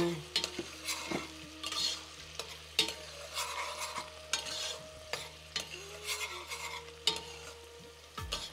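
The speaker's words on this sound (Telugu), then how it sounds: "నెయ్యిలో ఫ్రై అవుతున్నాయి కదా ఇవన్నీ" Onions with cinnamon and cloves frying in ghee for mutton marag soup, a steady sizzle under repeated scraping stirs and clinks of a spoon against the pan, close and fairly quiet.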